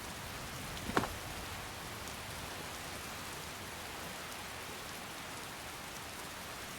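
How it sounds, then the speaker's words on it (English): Steady rainfall in Skyrim, a soft broadband hiss of rain on the ground that runs evenly throughout, with one brief louder tick near the start. "Get ourselves out of the rain."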